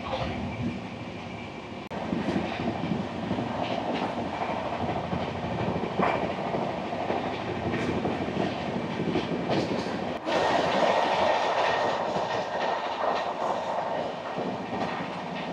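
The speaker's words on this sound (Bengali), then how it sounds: "ট্রেন অলরেডি আপনারা দেখছেন যে স্লো হয়ে গেছে, সামনে রয়েছে খড়গপুর।" A passenger train slows as it approaches Kharagpur, with a continuous loud rumble of wheels on track, rhythmic clickety-clack and occasional jolts, heard from inside the carriage.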